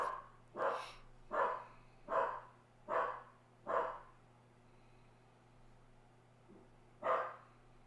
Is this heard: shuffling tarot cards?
no